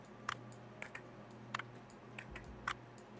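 Keys on an old computer keyboard are pressed during testing, a few sparse, faint clicks spaced irregularly in a quiet room.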